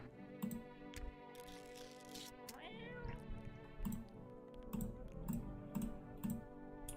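A cat in a video game meows when petted, giving short mewing calls over a busy game soundscape with a steady hum and clicks.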